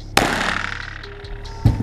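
A gunshot fired at an iPhone camera gives two sharp, loud, close-range bangs about one and a half seconds apart, each with a short ringing decay, and no talking.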